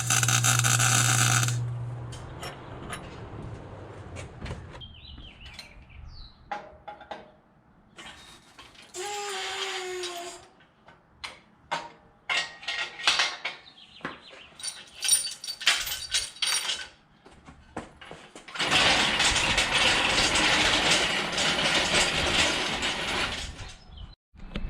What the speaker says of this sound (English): So I'm going to go ahead and start cutting and notching.